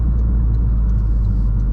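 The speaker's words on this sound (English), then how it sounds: "Oh my god, the downshifting is so perfect." A Toyota GR Corolla hot hatch driven on a race circuit, its engine a loud, steady, deep rumble heard from inside the car as it works through a downshift, with no talking.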